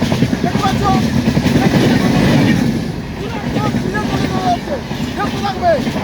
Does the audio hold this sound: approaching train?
yes